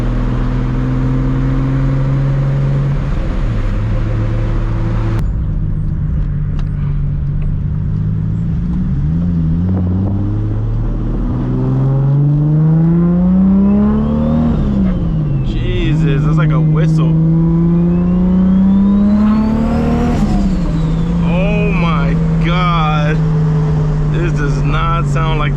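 A 1000hp MK4 Toyota Supra engine revving and accelerating on a cruise, heard from inside the car as a loud droning growl that rises and falls through repeated pulls, with some voices under the engine.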